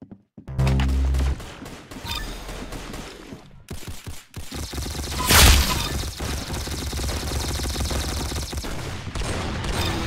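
Rapid gunfire from the Roblox game Arsenal, with a loud opening burst, then repeated shots and a booming blast midway, followed by continuous crackling fire and game effects to the end.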